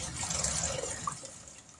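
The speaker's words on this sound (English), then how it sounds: "Now I'm going to make a cornstarch slurry, and all that is cornstarch and water" Cornstarch and water being stirred into a slurry for thickening pot roast gravy, giving a soft continuous liquid swishing with a faint clink, close and fairly quiet with no talk.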